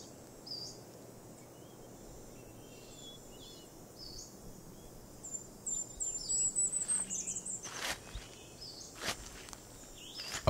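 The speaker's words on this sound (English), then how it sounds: "dried and fallen leaves crumble, their crackling noise puncturing the bird sounds twittering in the trees." Boots crunching over dry fallen leaves on an unpaved forest path, with scattered bird chirps and twitters in the trees overhead; the steps begin softly and grow into a close, crackling rhythm toward the end.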